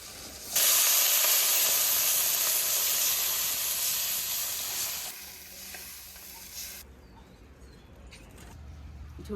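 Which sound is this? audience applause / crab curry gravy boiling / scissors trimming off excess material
crab curry gravy boiling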